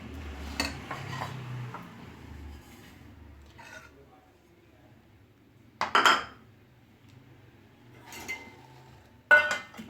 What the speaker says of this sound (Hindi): अंडा हम प्लेट में फेंट लेते हैं तोड़ के